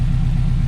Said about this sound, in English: the Subaru motor with the exhaust is gives you a really good rumble